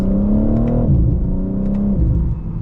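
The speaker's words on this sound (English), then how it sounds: "setting off now in the M4 Comp xDrive" A BMW M4 Competition xDrive coupe pulls away and accelerates, its engine note rising steadily through two gear changes, loud and close with no talk over it.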